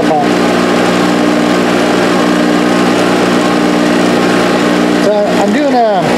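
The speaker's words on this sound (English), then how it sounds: "Yeah, I gotta do something about the air pump." An air pump hums loudly and steadily right beside a 3018 CNC machine, its droning, buzzing tone constant throughout, with a voice breaking in near the end.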